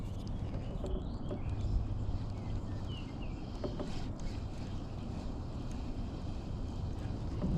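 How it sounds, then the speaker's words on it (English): Wind blowing across open water around a small fishing boat, a steady low rumble and buffeting with faint lapping, far-off texture, no voices. "The wind is picking up."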